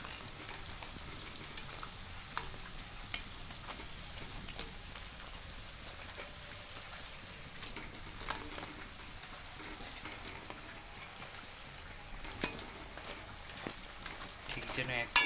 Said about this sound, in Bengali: এটা ভাজা হচ্ছে, ভাজাটা হয়ে আসুক, কিছুক্ষণ রাখবো, উল্টে পাল্টে দেবো